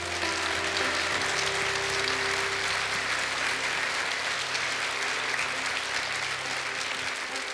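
Sustained, dense applause from a large church congregation, loud and even throughout, with no pauses or talking over it.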